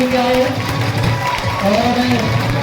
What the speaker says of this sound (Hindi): ताली थोड़ी मर्दों वाली बजाओ ना सर